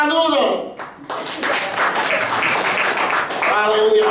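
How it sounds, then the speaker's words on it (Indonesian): A church congregation bursts into a couple of seconds of dense applause, framed by a person speaking just before and after. "tepuk tangan dulu dong"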